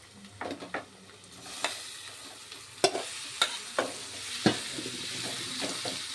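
Chicken curry with tender tamarind leaves being stirred in a frying pan, a steady sizzle under scattered scrapes and clinks of the spoon against the pan, close and moderately loud.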